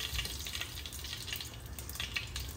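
Potatoes fry in a pan with a soft, steady sizzle and a low background rumble, close but fairly quiet, with no voices.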